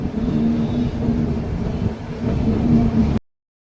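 A train in Gujarat runs steadily around a wide curve, producing a continuous close rumble with a low mechanical hum that holds even throughout and then cuts off abruptly.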